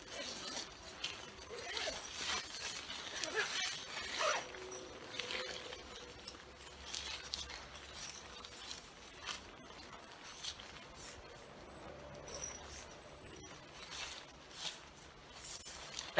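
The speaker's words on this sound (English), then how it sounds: "it zips up quite far" A zipper is drawn up in several short rasping pulls, quiet and close, with faint rustling of fabric in between.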